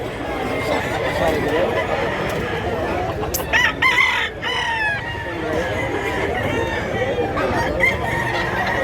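A rooster crows near a cockfighting gamefowl seller's pen in Mantalungon, Cebu, with clucking and other fowl amid steady background chatter and people talking throughout.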